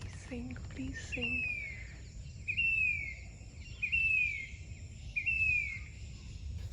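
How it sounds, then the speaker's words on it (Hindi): A bird sings four clear, rising whistled phrases spaced about a second apart against a soft outdoor background, with a person speaking briefly at the start. "ये पंछी की आवाज़ ध्यान से सुनना।"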